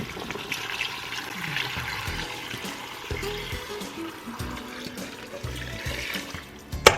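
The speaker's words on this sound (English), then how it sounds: "Now add 10 cups of water." A steady stream of water pours into a cooking pot holding chilies, onion, bay leaves and garlic for pozole, a continuous rushing fill that ends with a short clank.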